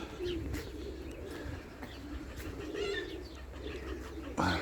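Pigeons coo softly and repeatedly against a low outdoor background hum, with faint chirps mixed in, during drizzle.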